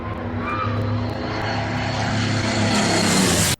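A P-51 Mustang propeller fighter drones loud and close with a steady engine roar and a faint rising whine, cutting off abruptly at the end without talk.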